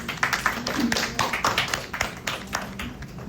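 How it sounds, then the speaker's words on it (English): An audience at a women-in-tech event applauds, a sparse, fairly close patter of individual claps with irregular sharp hits that stays modest in size and tapers slightly toward the end. "Let's give her a warm round of applause."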